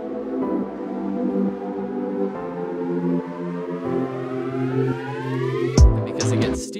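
An uplifter effect built in the Serum synth climbs steadily in pitch as a loud, dense, siren-like tone with layered harmonics, swelling continuously before a sharp hit near the end.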